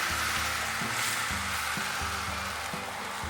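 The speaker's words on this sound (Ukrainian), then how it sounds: "Наша сковорідка вже розігрілася. Доливаємо наше яйце і робимо налисник такий" Steady sizzling of egg frying in a hot pan, continuous and close, with faint low clinks and scrapes underneath.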